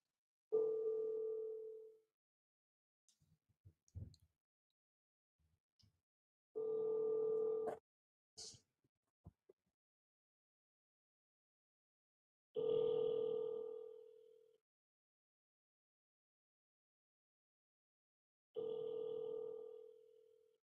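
A telephone ringback tone purrs four times in long, evenly spaced bursts while calling a real estate agent, with brief faint clicks and handling noise in the quiet gaps between rings.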